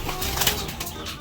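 Mixed stock pigeons cooing together in a loft, including black velvet and long-distance birds, a soft continuous murmur of overlapping coos at moderate distance with no talk.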